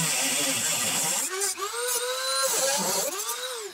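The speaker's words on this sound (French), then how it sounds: "je vais mettre un coup de Dremel au bout de la tige" A Dremel rotary tool grinds down the end of a rivet stem on a Ford Mustang's window assembly, a loud, close, high whine that rises and dips in pitch as it bites into the metal, running steadily throughout.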